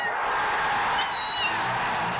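A single cat meow sound effect rises briefly over a steady background bed, short and clear in the middle of the clip.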